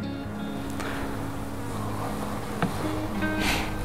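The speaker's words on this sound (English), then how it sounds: "there's bees on here" A steady, close buzzing of honeybees on a frame from a nucleus colony being installed in a hive, a continuous drone with a few brief louder passes near the end.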